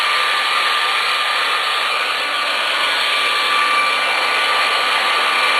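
A blow dryer drying a wig runs continuously at full power, a loud, steady whooshing roar with no pauses or speech.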